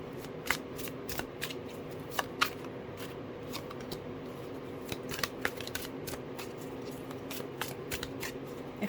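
Playing cards being shuffled repeatedly, with a steady riffling texture broken by sharp flicks and snaps, close up and without talking.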